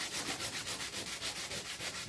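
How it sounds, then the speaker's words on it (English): Sandpaper is rubbed by hand across the underside of a Seydel harmonica slider in quick, regular back-and-forth strokes, a soft, steady scratchy rasp with no voices. "All of it is now sanding, so I know it's working the whole thing right now and close to done."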